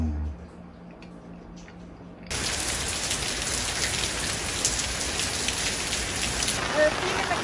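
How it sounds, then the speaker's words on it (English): Heavy monsoon-season rain in Seoul, Korea pours down steadily in a loud, dense hiss that starts abruptly and continues without letup. "Non-stop rain since this morning."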